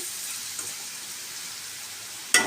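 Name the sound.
spices frying in a pan before adding onions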